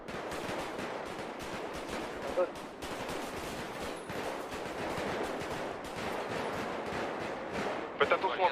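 Rapid bursts of gunfire from a GTA roleplay shootout crackle repeatedly and densely throughout, fairly quiet overall, with players calling out in French over the shooting.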